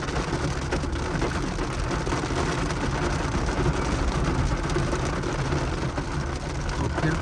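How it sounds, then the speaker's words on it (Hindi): Heavy rain pours steadily outdoors along a food street in a commercial area, a dense, continuous hiss at constant loudness throughout with no pauses and no voices. "तो फिर खूब बारिश जो है वो बरस रही है।"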